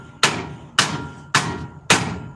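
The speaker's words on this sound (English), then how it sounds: "then smack it and it should come down" A hammer smacks a drag car's axle hub four times at a steady, roughly half-second rhythm, each blow a sharp, loud metallic strike that rings briefly before the next, with no talking.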